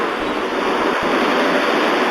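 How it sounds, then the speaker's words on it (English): Ocean surf crashing in a train simulation game along the Outer Banks coast, a loud, steady broadband wash of waves with wind-like roar filling the whole stretch, no voices over it. "Man, that ocean is really loud."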